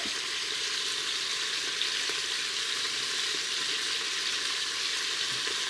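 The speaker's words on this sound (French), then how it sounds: "une fois que vous avez mis votre viande à colorer, vous la touchez plus pendant au moins 2 minutes, histoire qu'elle grille bien" Meat searing in a hot pan for Flemish carbonade, a steady bright sizzle with faint crackles, close and continuous, with no voices.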